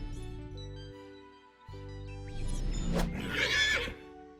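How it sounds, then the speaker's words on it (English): A horse gives one loud, close whinny with a shrill, shaking rise and fall, following soft background music. "Horse."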